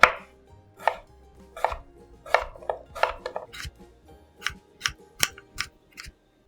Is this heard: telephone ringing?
no